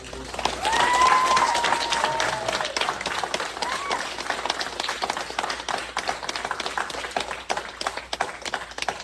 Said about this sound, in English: Would you please give a giant round of applause as I welcome Mr. Zaworski